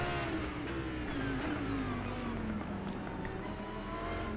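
Radio-controlled GT3 race cars lap the Daytona circuit, a steady high-pitched electric motor whine with a gliding pitch that falls as a car brakes and corners, close and continuous with no talk.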